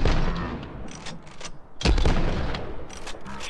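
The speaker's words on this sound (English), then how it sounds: "Confound missed three shots." Video game gunfire: loud, close bursts of shots and booms in rapid clusters, with a heavy blast partway through and more shots trailing off.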